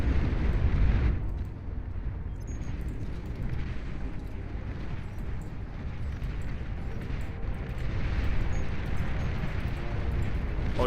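A commander unit blows up in the strategy game Beyond All Reason, a loud low rumbling blast that opens heavily and then settles into a long sustained roar with no talk over it.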